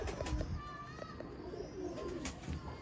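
A golden pigeon coos softly and repeatedly, fairly faint against a busy background with other birds and distant children.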